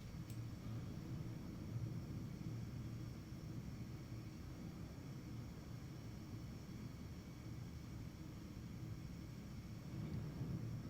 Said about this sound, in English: Can you hear the storms?